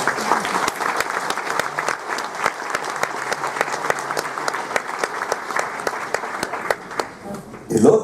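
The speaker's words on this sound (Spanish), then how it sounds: "Segundo aplauso." Applause from an audience at a Rotary exhibition talk, with steady sustained clapping of a crowd filling the room that fades at the end.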